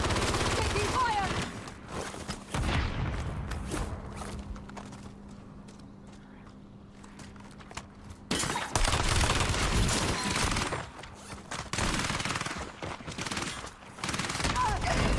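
Gunfire bursts from a Black Ops battle royale match crackle through the scene, with rapid volleys at the start and end and a quieter stretch in between, under the player's talk.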